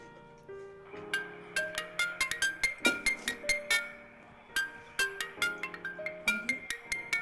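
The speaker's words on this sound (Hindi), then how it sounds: "सुषमा का फोन इतने दिन के बाद।" A mobile phone ringtone for an incoming call plays alone, a repeating melodic run of bright, clear tones that stops briefly and then starts again, loud and close.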